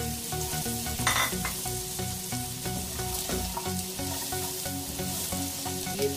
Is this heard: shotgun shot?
no